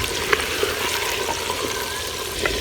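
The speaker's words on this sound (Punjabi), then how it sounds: "ਚਿਕਨ ਨੂੰ ਚੰਗੀ ਤਰ੍ਹਾਂ ਫਰਾਈ ਕਰਾਂਗੇ" Chicken frying in oil in a clay handi for a village-style karahi, a dense continuous close sizzle with a few small pops and light stirring knocks, steady throughout and free of voices.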